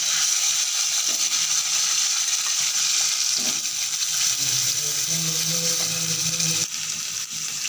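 Cut potatoes and cauliflower fry in hot oil in a pan, a steady bright sizzle filling the whole stretch, with occasional clinks and stirring scrapes rising and falling beneath it.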